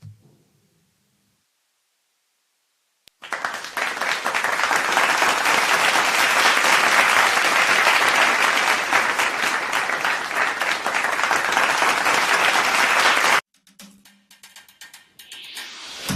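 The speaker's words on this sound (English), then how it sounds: "that definitely results a loud applause" Loud, dense applause from a cricket crowd greets a 100-run partnership between Shubman Gill and Yashasvi Jaiswal at a T20 international, breaking out after a quiet start, holding steady for about ten seconds, then cutting off abruptly.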